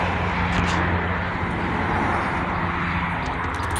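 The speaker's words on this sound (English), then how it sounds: "Yeah, there's a plane coming over." Airplane passing overhead on a breezy summer day, a steady broadband roar that holds at a fairly loud level throughout, with wind noise mixed in and no talk.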